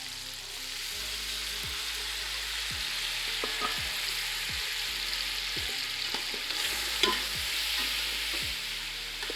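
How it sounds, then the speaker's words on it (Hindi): Yakhni stock meets sizzling masala in a pot for mutton pulao, giving a steady hiss and bubbling with a regular clacking of stirring against the pot, close and moderately quiet, with no voices. "थोड़ी सी यखनी डालते हैं हम।"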